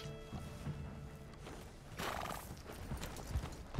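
A horse's hooves clip-clop and it whinnies in the Red Dead Redemption 2 online video game, the hoofbeats steady and close with a short neigh midway.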